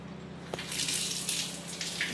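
Water runs steadily from a tap, a constant soft hiss of flow heard close and quiet with no voices.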